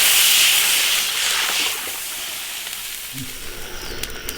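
Water poured into a hot iron wok of braising sauce for goose sets off a loud, hissing sizzle that peaks at first and then settles into a softer, steady bubbling hiss.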